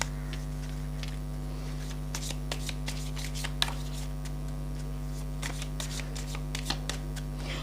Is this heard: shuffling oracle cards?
yes